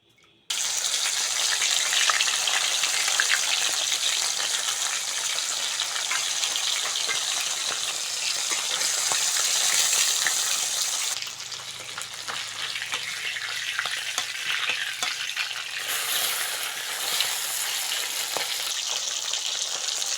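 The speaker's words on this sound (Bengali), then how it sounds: "উনুন ধরিয়ে কড়া বসিয়ে দিয়েছি প্রথমে মাছগুলো ভেজে নেবো" Bata fish frying in hot oil in a kadai over a lit clay oven, a loud continuous sizzle with a hissing, water-like rush that shifts in texture partway through, no voices.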